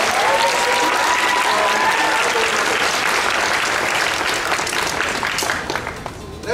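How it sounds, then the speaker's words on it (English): Audience applause at a Kraken Con anime convention costume contest in spring 2015, a dense sustained wash of many hands clapping with a few cheers, holding steady before tapering at the end. "One more big round of applause."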